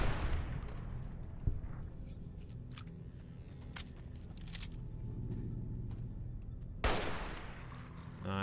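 Rapid gunfire in the video game Fallout New Vegas: sharp bursts of shots at irregular intervals over a steady background, with a couple of louder blasts standing out.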